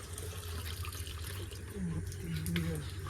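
Water runs steadily into a bucket, a continuous splashing rush close by that holds evenly for a few seconds.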